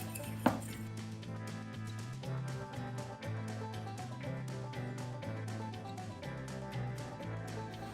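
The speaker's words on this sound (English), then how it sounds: "a tablespoon of cinnamon. Take a fork, Mix that all up like so." A fork stirs cinnamon into apple pie filling in a bowl, giving soft repeated scraping and light clinks against the dish, quiet and steady, with one sharper knock near the start.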